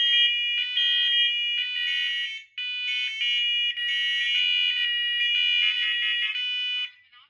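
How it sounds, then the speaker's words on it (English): Wireless carbon monoxide alarm sounding a loud, shrill electronic beeping in repeated bursts with brief gaps, close and alone, no speech. "Warning. Evacuate. Carbon monoxide in master bedroom. Evacuate."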